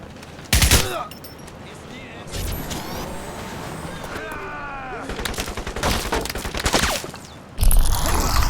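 Bursts of automatic gunfire in the first-person shooter Crysis Remastered, loud volleys at the start and end with scattered shots and rattling impacts between, no voices.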